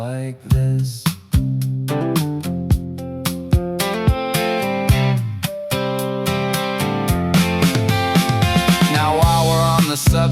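A rock song played on electric guitars, with loud, full chords and driving rhythm and several sharp stops and restarts, continuing without any voice.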